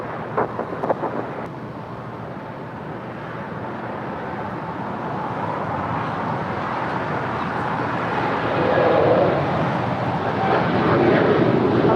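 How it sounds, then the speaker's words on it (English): An Air Canada Boeing 787 Dreamliner heading to Toronto roars down the runway on takeoff at LAX, a broad jet-engine rumble building steadily and swelling louder toward the end. "Now, rolling down is the Air Canada Dreamliner heading to Toronto."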